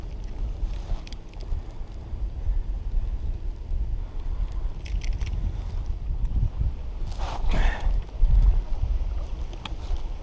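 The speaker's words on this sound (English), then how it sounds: "Super windy." Strong wind buffets the microphone on a lake during frog fishing from a Nucanoe kayak, gusting unevenly with low rumbles and a few sharp splashes or knocks, no voices.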